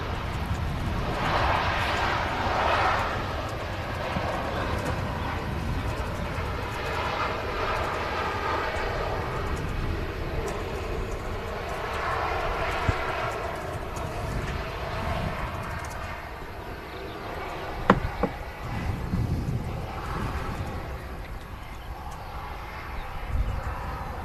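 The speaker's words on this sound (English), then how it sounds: "EasyJet A320 on the approach, which is coming in from Paris" An EasyJet Airbus A320 airliner on approach to Manchester Airport, inbound from Paris, produces a steady, sustained jet roar that stays loud and broad throughout, with a few brief clicks over the continuous engine noise.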